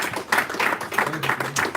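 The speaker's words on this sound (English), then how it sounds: "That deserves a round of applause." A small audience claps in uneven bursts during a live trading talk show, with a voice briefly heard among the applause.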